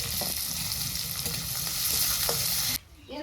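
Cumin seeds, chopped onion and five garlic cloves dropped into hot oil for a fish curry, giving a loud, dense hiss of frying that cuts off sharply near the end, leaving a quieter sizzle.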